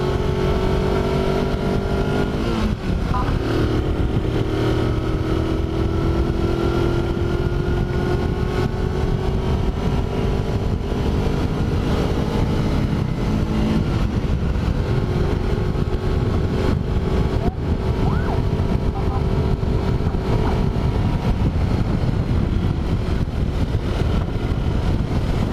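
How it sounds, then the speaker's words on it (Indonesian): Kawasaki Versys X-250 parallel twin motorcycle engine under way on an asphalt road, a steady loud drone with rising tones as it pulls through the gears, continuous with wind noise throughout. "saya merasakan sendiri powerful parallel twin engine dari Versys X250"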